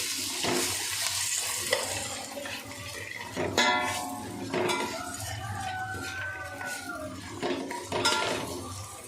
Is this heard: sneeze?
no